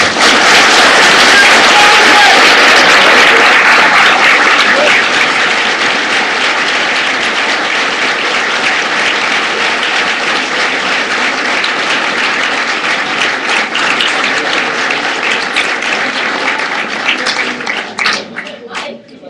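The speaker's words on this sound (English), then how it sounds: "let's give our candidates some applause right now" Applause for congressional candidates at a forum, a loud, dense ovation that starts at full strength and slowly thins and softens over almost twenty seconds, with scattered claps near the end.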